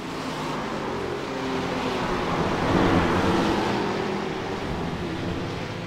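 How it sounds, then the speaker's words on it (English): Race cars in a GT3 racing game at Zandvoort accelerate down the start-finish straight, giving a steady, dense engine roar that swells to a peak midway and then eases slightly, with no talk over it. "So here's the acceleration out on the long straight, start and finish straight"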